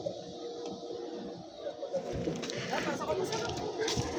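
Pigeons in a loft coo softly amid a busy background of rustling and shuffling, with people talking nearby.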